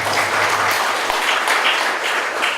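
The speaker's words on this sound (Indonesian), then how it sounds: "Jadi yang mohon tepuk tangannya yang luar biasa." A crowd at a retail education partnership event applauds loudly and continuously, dense clapping filling the room from start to finish.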